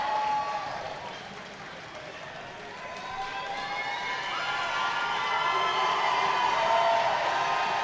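Crowd cheering and shouting in a high school gym during a girls regional semifinal basketball game, a steady, dense roar that swells gradually over several seconds.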